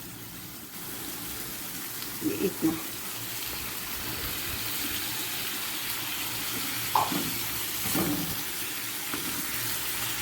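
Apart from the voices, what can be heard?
water poured into pan of cooking keema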